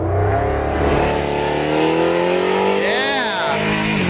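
A nitrous-fed race car launches down the Bonneville salt flats with its tires spinning, the engine note climbing loudly and steadily before a sharp rising chirp near the end, with voices faintly underneath.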